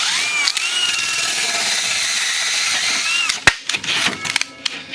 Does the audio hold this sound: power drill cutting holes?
yes